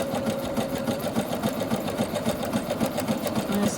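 A sewing machine running a zigzag stitch, its needle chattering in a fast, even rhythm at close range with a low motor hum underneath.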